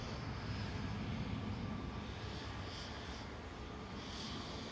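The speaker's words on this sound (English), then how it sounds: "Etihad 77 from Abu Dhabi touching down, A6ETP, 777-300ER" An Etihad Boeing 777-300ER airliner from Abu Dhabi touches down, giving a steady, broad engine roar with a few faint rising whines, held at an even level throughout.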